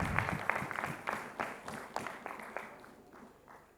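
Applause at a youth parliament session welcoming a guest, with distinct clustered claps at first that thin out and fade toward the end, moderately loud and without speech.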